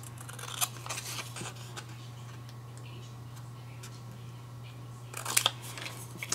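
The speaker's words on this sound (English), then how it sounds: "I'm going to cut it with scissors just to give it a more of a whimsical feel." Quiet snipping of scissors through paper, a few short crisp cuts spaced apart over a low steady hum, with a louder cluster near the end.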